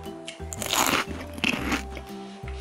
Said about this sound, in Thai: ลองชิมไข่หวานดูบ้างนะคะ